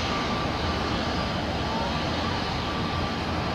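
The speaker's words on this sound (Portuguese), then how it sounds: "Tem um ATR pronto para decolar." ATR turboprop airliner at Lisbon airport preparing to take off, a steady loud broadband engine roar that holds evenly throughout, heard from a distance with no talk.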